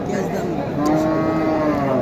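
A pregnant Sahiwal cow at the Dhamoirhat cattle market in Naogaon, Bangladesh, moos loudly and close by, one long, low, drawn-out call that fills the whole moment.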